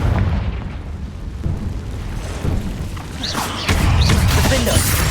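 Confringo spell explosion in the video game Hogwarts Legacy, deep booming blasts and rumbling bursts inside a cave, loud and repeated over several seconds with a voice speaking among them.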